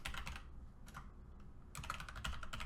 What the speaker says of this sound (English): you type in the string path that represents the root of your project folder